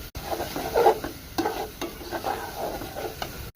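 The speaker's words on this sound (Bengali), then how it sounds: "এটাকে আমি এবার কয়েক মিনিট এভাবে ভালোভাবে ভেজে নেবো" Small pieces of big fish belly with chilli frying in a pan, a soft continuous sizzle with a few stirring scrapes and clinks, close up and without any voices.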